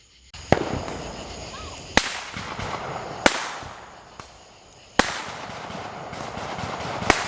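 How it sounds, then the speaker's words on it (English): Sharp firework and Roman candle bangs pop out one after another at irregular intervals on the 4th of July, each followed by crackling and a lingering outdoor rumble. "we got some fireworks, some Roman candles going off"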